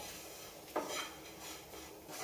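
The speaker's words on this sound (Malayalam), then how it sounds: "ആ ഇഞ്ചി നമുക്ക് ഇതിനകത്തോട്ട് ഇട്ട് കൊടുക്കാം എന്നിട്ട് നന്നായിട്ട് ഇവരെ ഇളക്കി അങ്ങോട്ട് യോജിപ്പിക്കാം" Ginger stirred into an Onam sadya dish, heard as a faint spoon scrape against the pot over a steady background hiss, close but quiet, with no talking.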